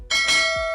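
A notification bell sound effect: a single bright, ringing chime strikes sharply and then sustains and slowly fades.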